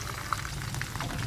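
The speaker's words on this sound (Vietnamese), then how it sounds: "Lá chiên, tỏi sẽ được chiên lên." Curry leaves and garlic fry in hot oil, giving a steady close crackle and sizzle with scattered small pops and a low background rumble. Nobody speaks.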